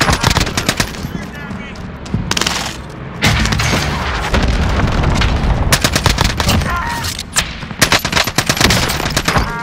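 A bomb strike rains down in Call of Duty Warzone on Verdansk: dense, loud volleys of rapid gunfire and heavy booms pound continuously, with short breaks between bursts.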